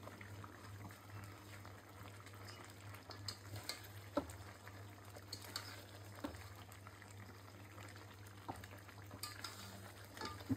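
Pieces of roasted country chicken fry in a spiced masala, giving a soft continuous sizzle with occasional stirring clatters over a low steady hum.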